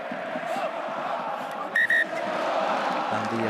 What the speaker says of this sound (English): And the crowd singing, "We're here, the people of Toulon."